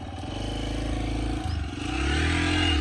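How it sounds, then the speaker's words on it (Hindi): A Hero XPulse 200 motorcycle on an off-road track revs close by, its engine note dipping and rising as it climbs toward a jump and then surging louder, with no talking. "यहाँ अपनी बाइक अभी करेगी जंप।"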